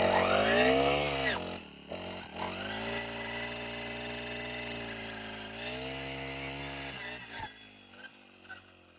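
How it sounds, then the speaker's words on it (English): A chainsaw cuts through thick brush stems while clearing overgrown land. The engine revs loud and close in a steady, droning whine that dips briefly and then climbs back up, with no talking. "Anything above that, quicker to use the chainsaw."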